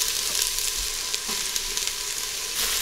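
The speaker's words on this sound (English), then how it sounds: "So we're going to stir fry this for about 2 to 3 minutes." Green onion and mushrooms stir-fry for Chinese sticky rice, a dense continuous sizzle close up with light clinks of stirring scattered through.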